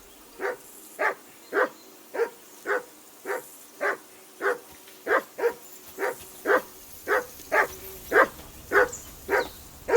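A dog in the video game Kingdom Come: Deliverance 2 barks steadily, about twenty evenly spaced, loud, close barks in a regular rhythm with no talk over them.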